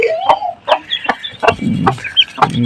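An annoyed hen clucks repeatedly in short, sharp bursts close by, a rapid irregular series of about half a dozen calls with soft scuffling between them.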